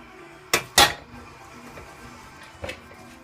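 A utensil stirs black bean soup in a metal pot, giving two sharp close clanks followed by a quieter scrape and a softer knock against the pot.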